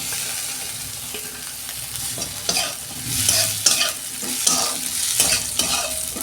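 Onion and tomato fry in a pan with a green chilli, a steady sizzle broken by repeated scraping stirs that come in bursts, close and fairly loud, with no voices.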